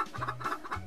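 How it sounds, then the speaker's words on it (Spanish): Chickens cluck softly in a hen cage, making a few faint, brief clucks with nobody talking. "Cuando mira para afuera, ve a Walter en la jaula de las gallinas"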